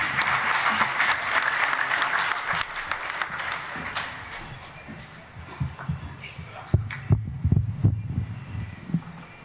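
Audience applause for Choctaw hoop dancers at a main stage cultural festival performance, a dense roar of clapping that fades into scattered claps and thumps, with voices and crowd noise underneath.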